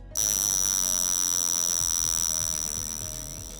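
A mechanical dive watch alarm with a double-layer resonance chamber rings loud, steady, high-pitched and metallic for several seconds, slowly fading slightly toward the end.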